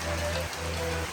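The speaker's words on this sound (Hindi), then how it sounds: "अभी जो है बारिश हो रही है बहुत ज़्यादा" Heavy rain pours outside during a monsoon road trip from Rishikesh toward Devprayag, a dense steady hiss with a low droning hum underneath, with no voices.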